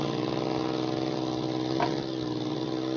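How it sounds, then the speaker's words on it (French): A farm tractor in a video game labours uphill, its engine holding a steady, strained mid-pitched drone that runs unbroken from start to finish, close and fairly loud. "le bruit du tracteur qui a du mal à monter"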